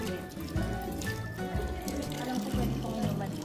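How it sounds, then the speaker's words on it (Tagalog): Tap water runs steadily into a sink, a continuous wash of splashing under a low hum, with a few faint tonal knocks in the background. "Malamig ang tubig."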